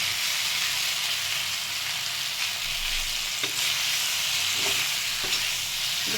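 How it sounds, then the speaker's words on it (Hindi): Paneer fries in hot oil in a pan, giving a loud, dense, continuous sizzle that stays close throughout with no voices over it. "गरम हो गया है, इसमें फ्राई करेंगे"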